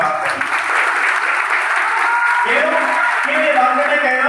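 An indoor audience claps continuously in a dense, steady patter throughout, with a voice speaking over the applause partway through.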